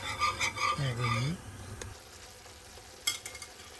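Gnocchi and cheese being stirred in a pan, a soft scraping and low bubbling that starts fairly loud, then fades to quiet background with a brief clatter near the end; a faint voice is heard early on.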